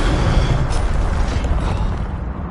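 A loud, dense roar of fire from an Incendio spell in Hogwarts Legacy, a broad rumbling whoosh sustained for a couple of seconds before easing slightly.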